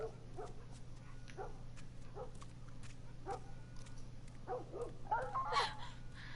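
A dog in The Last of Us video game gives a series of short barks and whimpers, spaced irregularly over a low steady hum and growing more insistent toward the end.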